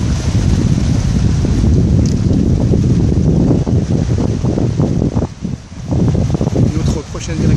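Ocean swell surging and breaking on the rocks beside a boat slipway and fishing shelter at Possession, a loud continuous roar of churning water with wind buffeting the microphone throughout.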